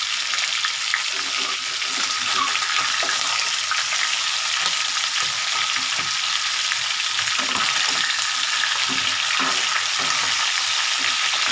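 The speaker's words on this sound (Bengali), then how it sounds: "মাছের ভাজাটা মোটামুটি হয়ে এসছে" A catla fish head fries in a pan with a continuous hissing sizzle, close and even, broken by occasional soft scrapes from turning it, with no talking.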